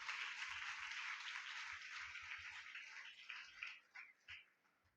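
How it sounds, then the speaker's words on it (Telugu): A church congregation clapping their hands, a steady wash of applause that thins into a few scattered louder claps before fading out, with faint low thumps beneath. "చప్పట్లు కొడతారు."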